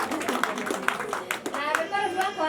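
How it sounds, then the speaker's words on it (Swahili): Hands clapping in applause at a Kenyan Ruracio dowry ceremony, a run of quick, fairly close claps with voices talking and calling out over them. "makofi"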